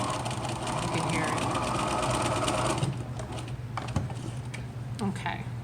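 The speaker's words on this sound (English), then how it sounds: "I clearly need to oil my machine." A sewing machine in need of oil stitching a fabric face mask, a loud, rapid mechanical whirr for about three seconds, then quieter clicks and handling noises, with a voice speaking over it.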